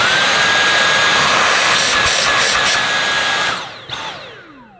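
A Dyson V8 Extra cordless vacuum whines at max suction with a high, steady motor tone, then winds down and falls quiet near the end.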